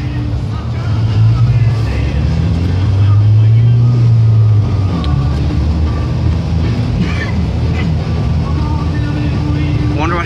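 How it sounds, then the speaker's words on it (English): A Peterbilt tow truck hauling a plow truck rolls past in a Maine blizzard, its loud low engine rumble close and steady from start to finish. "It is a fucking plow truck getting towed."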